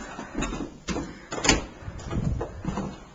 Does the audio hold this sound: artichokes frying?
no